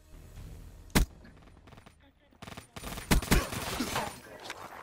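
Gunfire in an online shooter game: a sharp close shot, then after a short lull a dense spray of rapid shots and crackling bursts, fairly quiet in the mix with the background din of play.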